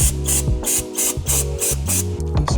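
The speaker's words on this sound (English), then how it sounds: "Oops, I'm gonna spray that on my paint." A handheld spray bottle of acetone squirts in rapid bursts at close range. About five short, sharp hisses come in a steady rhythm, each with a faint mechanical click of the trigger.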